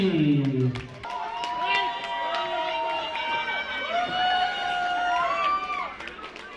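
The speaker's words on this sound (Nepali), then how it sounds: "फेरि ताली।" A crowd at a Dashain party bursts into clapping mixed with cheers and shouted voices, a busy, lively wash of hands and calls that stays fairly loud throughout.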